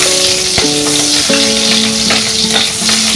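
Green chillies fry in hot oil with cracked cardamom while a katla fish curry is prepared, a loud, steady crackling sizzle broken by brief stirring knocks, with background music tones running alongside.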